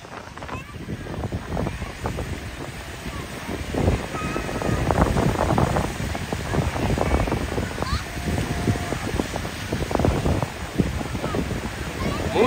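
Waves wash onto a crowded beach at Boa Viagem in Recife, a broad rushing surf under gusty wind noise, with distant crowd chatter and occasional nearby voices.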